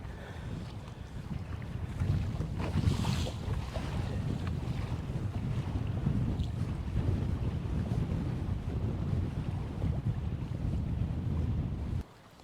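Strong wind roars steadily across open water while testing a Boonedox kayak rudder, a constant loud buffeting with wind-swell wash beneath, then cutting off abruptly just before the end.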